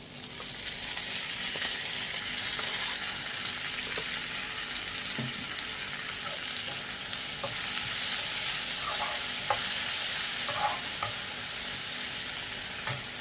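Onion and tomato fry in a pan for a pudalangai kootu, a steady close sizzle throughout with soft scraping and clinking as a spoon stirs them now and then.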